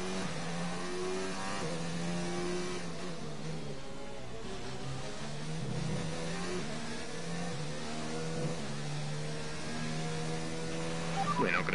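A race car engine in a racing video game drones steadily with rising and falling revs across shifting gears, continuous and fairly close, with no talk over it.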